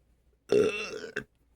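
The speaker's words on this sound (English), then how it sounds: "have to burp, hold on." A single loud, close burp rises out of silence and lasts about half a second, followed by a short softer gulp.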